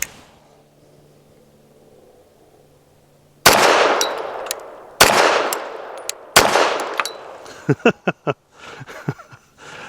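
Pistol fire from a BUL Armory TAC Pro shooting Ammo Inc. Stealth 165-grain rounds, three loud, sharp shots with ringing decays, then a quicker string of shots and fainter follow-up reports outdoors, after a quiet lead-in.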